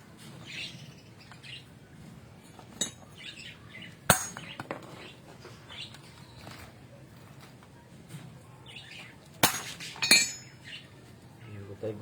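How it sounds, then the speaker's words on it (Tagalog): A hammer strikes a bato omo amulet stone in a few sharp, isolated clinks with long gaps between them. Birds chirp in the background and quiet talk can be heard. "Hindi pa tayo kontento dyan sa isang pukpok na yan"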